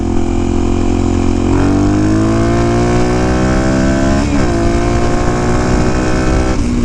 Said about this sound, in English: look how hard the engine brakes. It's not supposed to engine brake that hard